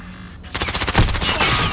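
Rapid automatic gunfire in a Call of Duty match, a loud close burst of repeated shots after a brief quiet moment.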